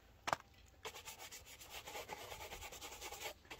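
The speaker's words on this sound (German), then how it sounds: "schön viel Creme, gerade mit so einem dreckigen Schuh" Generous polish cream is rubbed onto a dirty shoe, worked into the grooves and eyelet holes. After a sharp tap, steady, close scrubbing strokes repeat in an even rhythm.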